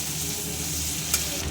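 Prawns sizzle in hot oil in a wok, a steady close frying hiss with one brief sharper spatter near the end, no talking.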